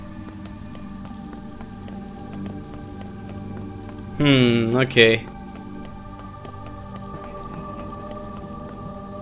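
Heavy rain pours loudly and constantly in the horror video game Pathologic, a dense hissing downpour, with someone speaking briefly partway through.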